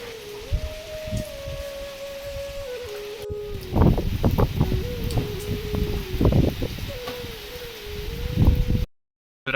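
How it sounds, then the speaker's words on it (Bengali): Strong wind howls in a wavering tone during a long rainstorm at a home in Bangladesh, with gusty rustling bursts of rain and leaves rising and falling, loud and near, before a brief cut to silence. "তো বৃষ্টি কমছে ঠিকই কিন্তু বাতাস কমে নাই"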